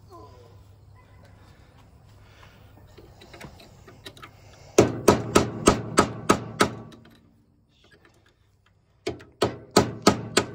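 Sharp metallic hammer blows on a punch ring out in a quick, even series, then stop briefly before another rapid run of strikes, close and loud, during work on a Silversides bus.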